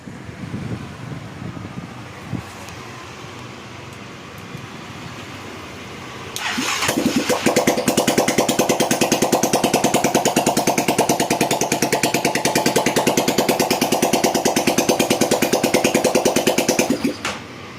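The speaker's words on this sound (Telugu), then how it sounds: "నేను ఒకసారి బండి అయితే స్టార్ట్ చేశాను" After a quiet stretch with a few faint clicks in a mechanic's workshop, a motorcycle engine cranks and fires, then runs at a loud, rapid, even idle for about ten seconds before shutting off.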